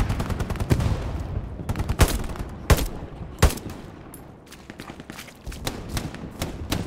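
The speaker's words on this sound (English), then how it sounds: "I hear machine gun fire" Bursts of machine gun fire in the WW2 shooter Hell Let Loose, sharp cracks and short rattling volleys at mid distance with some louder close shots, spaced irregularly across the stretch.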